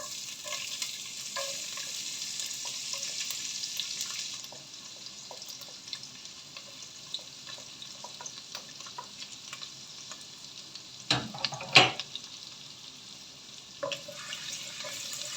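Chopped ginger and garlic sautéing in a pan for a potato and green pea curry, with a steady close sizzle, scattered stirring scrapes and a couple of sharper clatters near the end.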